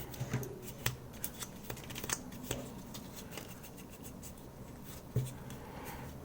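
Fine sandpaper rubs and scratches against a Keychron pudding keycap in short, irregular strokes, close and fairly quiet, with a few sharper taps in between.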